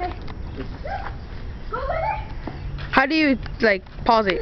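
A dog yips and barks in short, sharp bursts close by, with a cluster of loud barks near the end, while people talk over it.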